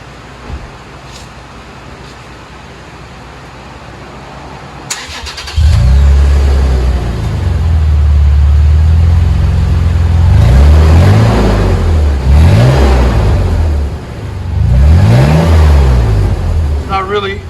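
A 2019 Toyota 4Runner V6 with a Black Widow Race Venom exhaust idles with a deep exhaust rumble, then is revved several times in rising and falling surges, loud and close.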